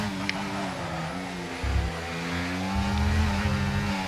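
Formula 1 race cars in the F1 24 video game during an Austria race, a steady layered engine whine with pitch shifts and swelling low rumble as cars pass.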